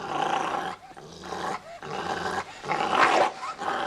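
A small dog growls in deep, rumbling bursts close by, with short pauses between snarls and rising intensity near the end.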